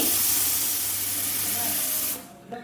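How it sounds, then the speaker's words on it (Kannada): A pressure cooker vents steam after two whistles while mutton cooks, giving a loud, steady hiss that runs for about two seconds and then cuts off abruptly, leaving quieter background sound. "2 ವಿಷಲ್ ಆಯಿತು, ಜೊತೆಗೆ ಪ್ರೆಷರ್ ಕೂಡ ಚೆನ್ನಾಗಿ ರಿಲೀಸ್ ಆಗಿದೆ."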